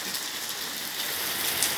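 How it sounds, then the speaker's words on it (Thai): Heavy rain from a tropical storm in Trat, Thailand, pours down in a dense, steady hiss with no breaks, filling the whole short stretch. "ฝนตกตลอด 24 ไม่มีการหยุดเลย ฝนเยอะมาก"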